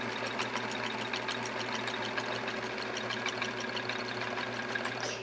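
A sewing machine quilting in the ditch along the seams of a chevron quilt runs in a continuous close mechanical whir, with a steady stitching rhythm and no pauses.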